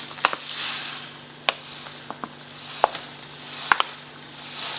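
Strawberry jam with sugar stirred in a pan over a low flame: a soft steady sizzle with a faint hum, broken by sparse sharp clicks of a spoon against the pan.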